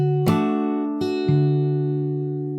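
A few plucked notes and chords on a guitar in fingerstyle, from a song, with three attacks whose tones ring out and sustain close up, no voice present.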